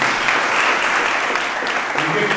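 A room applauds army soldiers at a celebration of Agniveer training: loud, dense, sustained clapping from a crowd, close and even, with a voice faintly underneath.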